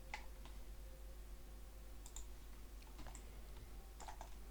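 Computer keyboard keys are pressed in soft, irregular clusters of clicks during 3D modeling work, close but quiet over a steady low hum, with no voices.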